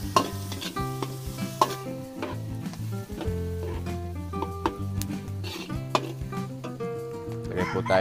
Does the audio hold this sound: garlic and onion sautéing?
yes